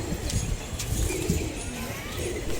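Pigeons on a rooftop give soft, low cooing calls and occasional rustles against steady outdoor background noise, close and moderately loud, with no one speaking.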